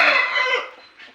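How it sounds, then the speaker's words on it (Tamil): Hens kept in a cage, about ten to fifteen laying birds, give a single short, loud squawking cluck up close, fading quickly into quiet. "கூண்டில் கூட ஒரு 10-15 கோழி இருக்குங்க."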